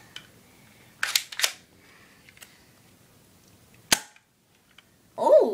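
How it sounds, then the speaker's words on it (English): Airsoft gun fired at point-blank range: a few sharp, close cracks spaced across a mostly quiet stretch, with a brief fuller burst at the end. "Let's try a blank range shot."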